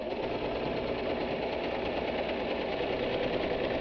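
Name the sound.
sewing machine stitching backward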